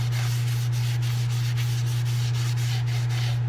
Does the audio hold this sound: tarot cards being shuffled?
no